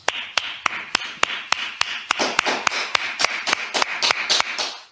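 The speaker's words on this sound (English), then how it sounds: "All right, clap it up." Hands clapping at the close of a Brotherhood class, a steady run of sharp, evenly spaced claps that grows into denser, overlapping applause from several people, then stops abruptly.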